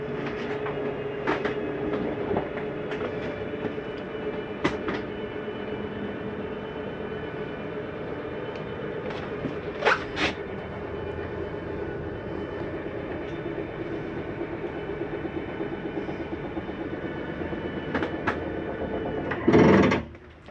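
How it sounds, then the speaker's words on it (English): Jayco Jay Flight 284BHS RV slide-out retracting, a steady mechanical motor drone with scattered clicks and knocks along the way, ending in a brief louder clunk as the slide seats fully in. "That's just the slide mechanism saying I'm in all the way."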